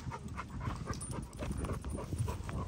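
A friendly dog pants quickly and steadily up close, with a few soft whimpers mixed into the breathing.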